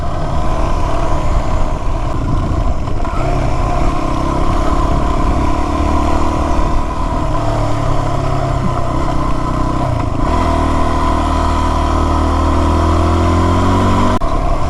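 A Yamaha WR250R motorcycle riding along a ranch road, its single-cylinder engine droning steadily at close range with shifting revs, wind and gravel clatter underneath throughout.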